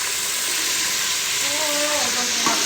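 Masala paste frying with browned onions in a kadhai, a steady close sizzle and hiss throughout with faint stirring, while a voice talks briefly over the cooking near the end.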